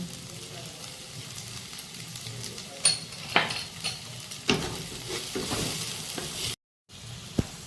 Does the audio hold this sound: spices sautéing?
yes